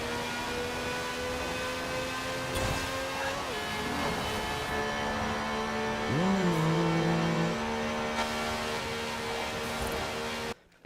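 The 1,200-horsepower Forza Edition Transit Van in Forza Horizon 4 gives a steady engine drone with tonal whine that rises and shifts through gear changes, continuous throughout before cutting off abruptly at the end.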